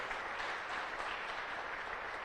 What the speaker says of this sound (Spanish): Dale ofrenda de palmas al Rey de Reyes.